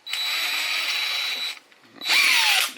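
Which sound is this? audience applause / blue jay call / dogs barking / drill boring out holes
drill boring out holes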